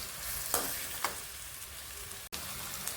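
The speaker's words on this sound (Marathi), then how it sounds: "कांदा छान परतलाय बघा आपला।" Chopped onion sautéing in oil with cumin for pav bhaji, a constant close crackling sizzle with a few sharper stirring scrapes and one abrupt brief cut near the end, no voices.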